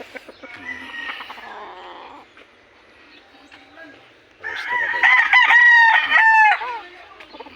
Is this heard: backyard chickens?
yes